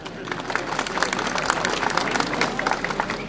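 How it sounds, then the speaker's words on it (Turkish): Wedding guests at a traditional Bursa wedding applauding, a dense, lively burst of many hands clapping close by, steady throughout with crowd noise mixed in. "Alkışlıyoruz."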